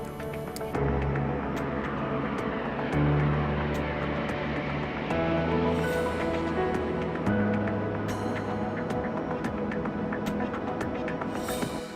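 An airplane descends to land, a steady, throbbing engine drone with shifting low hum tones, continuous and fairly close throughout.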